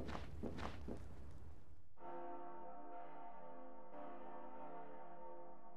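Large church-style bells ring in the bell tower area of the video game Bloodstained: Ritual of the Night, two sustained metallic strikes about a second apart with long humming decays, following a stretch of footsteps and movement sounds.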